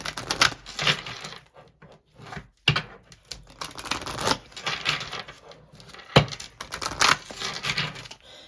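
Tarot cards are shuffled close by in repeated quick riffling and sliding bursts, papery and crisp, with short pauses between rounds.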